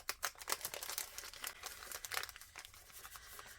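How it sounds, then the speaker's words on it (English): A glassine bag of floral stickers being handled, with quiet, close crinkling and papery rustles coming in quick irregular bursts, alone without any voice. "I've got this glassine bag that has these gorgeous stickers in it."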